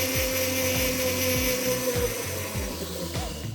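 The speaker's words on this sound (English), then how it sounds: "I'm gonna take my radial disc and make that a little bit more smooth." A radial bristle disc on a rotary tool whines steadily while it smooths a silver bezel for a Kingman turquoise cuff bracelet. A rhythmic chatter sits under the high motor tone, which is close and continuous.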